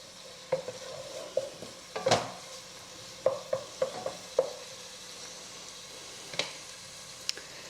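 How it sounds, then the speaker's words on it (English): A teaspoon of garlic sizzling in oil in a soup pot for golden lentil soup, a low steady fry under sharp spoon scrapes and clinks against the pot at irregular intervals, close up, no talking. "In goes the teaspoon of garlic. Don't let that burn, so stir that around really good."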